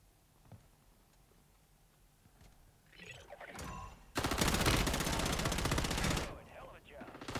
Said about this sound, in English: Missed all those shots.